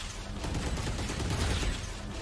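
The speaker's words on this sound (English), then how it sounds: "Who shot the wall?" A dense rattling burst of gunfire in a video game, with rounds striking a wall, sounds loud and continuous through the whole short moment.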